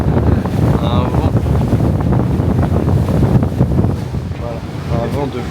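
Gusty wind roars across the deck of a New York ferry, loud and steady with low buffeting rumble that eases slightly near the end, with a brief voice in the background.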